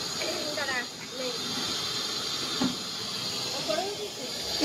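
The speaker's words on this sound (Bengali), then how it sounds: "এই যে মাছ ভাজা কাতলা মাছ" Katla fish frying in a pan, a steady loud sizzle and hiss throughout, with a person talking over it.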